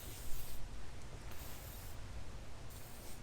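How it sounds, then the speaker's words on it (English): A steady, soft hiss of an aerosol lubricant spray can coating AK-47 rifle parts during cleaning, continuous with slight pulses, close and fairly quiet. "So I like to spray a little bit of everything on."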